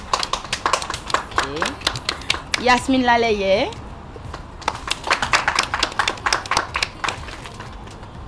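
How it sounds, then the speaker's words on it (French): Audience at a young designers' competition final clapping for finalists, bursts of applause scattered throughout while a presenter speaks names over them. "que je vous prie d'applaudir"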